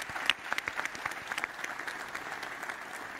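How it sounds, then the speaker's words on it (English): An audience applauds the panelists at a preliminary day of the World Government Summit at Dubai Exhibition Centre, scattered claps quickly thickening into steady moderate applause that gradually thins out. "Let's give a nice round of applause to all our panelists for playing along for the full hour"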